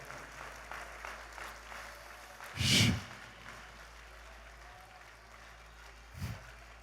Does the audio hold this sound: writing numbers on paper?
no